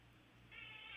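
A house cat meows indoors, a faint but clear drawn-out tonal cry starting midway and held to the end over a quiet room hum.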